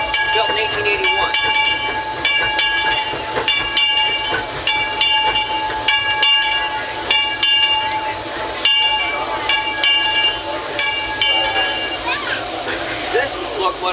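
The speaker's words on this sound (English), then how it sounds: "This locomotive was built in 1925." A steam locomotive built in 1925 rumbles along as heard from its tender, with steady rolling noise, rhythmic clanks and faint whistle-like tones, while voices talk over it throughout.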